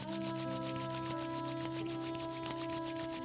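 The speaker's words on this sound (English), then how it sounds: "rub the palms together, create this heat" Palms of the hands rub briskly together in prayer position during a yoga flow, making a steady soft brushing friction over a sustained humming background tone, with no speech.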